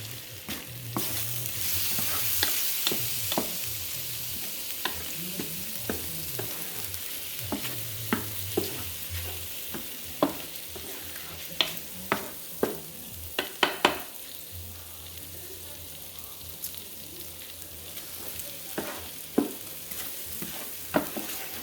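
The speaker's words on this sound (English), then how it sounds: "That was about 2 minutes of kind of stir frying the mussels in the ginger and the lemongrass" Mussels sizzle quietly as they are stir-fried with ginger and lemongrass, with scattered sharp clacks and scrapes from the spatula against the pan.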